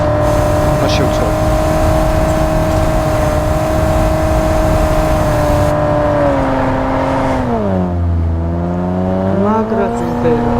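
A car engine revs hard as the vehicle slides, a loud, sustained drone that dips in pitch and rises again near the end, with voices talking over it.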